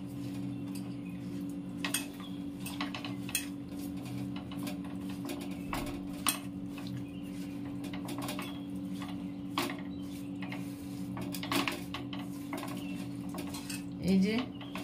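Hilsa fish being mixed by hand with mustard oil and spices, with soft squishing and intermittent clicks and taps against a dish over a steady background hum.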